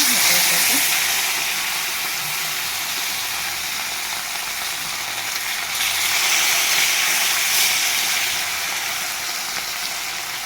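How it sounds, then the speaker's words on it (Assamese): Kanduli fish frying in hot oil in a home kitchen: a steady, bright sizzling hiss runs continuously and fairly loud, swelling slightly at moments, with faint background noise beneath. "মাছখিনি প্ৰথমে মই ফ্ৰাই কৰি ল'ম"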